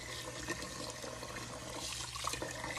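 Tap water runs steadily and softly for a final rinse, a low continuous splashing with no voices.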